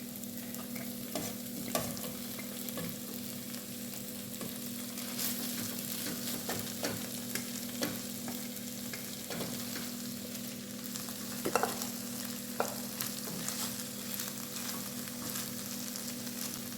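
Cabbage frying in margarine in a pan while curry cabbage cooks, a low steady sizzle with occasional spoon scrapes and clinks from stirring, close up, no talking.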